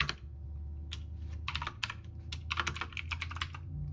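Quick, irregular clicks of a computer keyboard as C# code is typed, bursts of close keystrokes over a low steady hum, with short pauses between runs.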